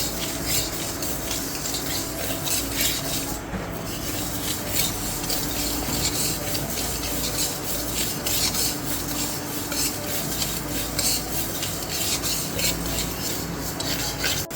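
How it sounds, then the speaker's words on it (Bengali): Lentils dry-roasting in a hot pan without oil give a continuous dry rasping and scraping as they are stirred. The sound is steady and close throughout, with no talking. "এটা বসিয়ে দিয়েছি, অল্প গরম হয়ে গেছে, আমি ডালগুলো ভেজে নেব।"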